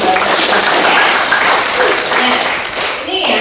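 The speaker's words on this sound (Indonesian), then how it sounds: "Berbuat baik yang banyak. Tepuk tangan dong." Audience applause at a training-for-trainers session, a dense steady patter of clapping from a room of participants that swells and then tapers slightly, fairly loud and close.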